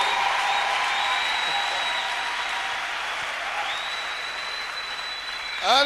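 A church congregation applauds steadily throughout, a dense, continuous wash of clapping from a crowd, with a sustained tone ringing above it and a brief swell at the very end.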